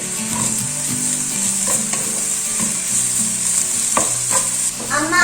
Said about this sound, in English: So I added 3 tablespoons of ginger paste and 3 tablespoons of garlic paste and saute for a minute.